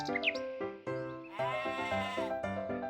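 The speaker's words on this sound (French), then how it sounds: "Il était une fois une vieille chèvre." A goat bleats repeatedly in a series of wavering, nasal cries, close and clear, with short pauses between calls and no talking.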